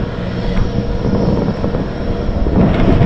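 An airplane engine roars loud and close at an airport during boarding for a flight to Tobago, a steady dense drone with a low rumbling hum throughout and no talk.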